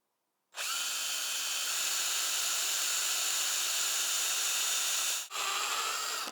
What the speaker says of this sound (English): drill a little hole through it and put a bolt in it